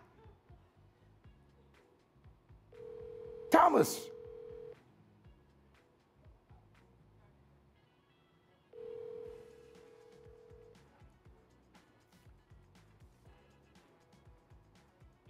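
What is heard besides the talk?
telephone call ringing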